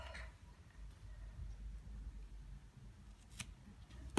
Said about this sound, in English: at this stage now, you can trim off those navy threads